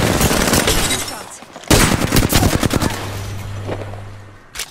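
Rapid bursts of automatic gunfire in Apex Legends ranked play, loud and close, with several volleys of shots followed by a sustained low tone as the fighting dies down.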